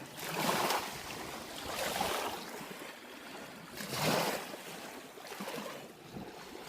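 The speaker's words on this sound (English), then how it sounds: "A lot of waves for a lake." Waves from Castaic Lake wash rhythmically against the shore in slow, rolling surges, mixed with steady wind noise and no voices.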